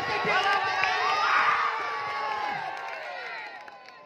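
Spectators at a Bengal versus Odisha volleyball match cheer and shout in a dense, energetic roar with whoops and scattered clapping, staying loud throughout.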